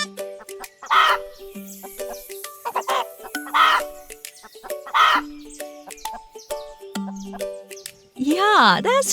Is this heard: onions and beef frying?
no